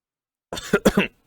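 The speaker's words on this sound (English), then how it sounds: "sometimes oh my gosh, we're doing something live and I have to cough" A short burst of close coughing, two or three quick harsh coughs in a row, loud and alone after silence.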